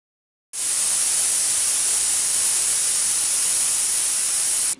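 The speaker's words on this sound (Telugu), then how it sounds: "ఇప్పుడు విజిల్స్ వచ్చాయి కాబట్టి చల్లారిన తర్వాత మూత తీద్దాం" A pressure cooker cooking moong dal with chilli powder, turmeric and water releases steam in a loud, steady, close hiss that runs unbroken for over four seconds with no voices.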